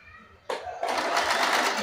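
A sewing machine stitches a straight seam on a tucked belt blouse, starting abruptly after a brief quiet moment and then running in a steady, close, rapid whir.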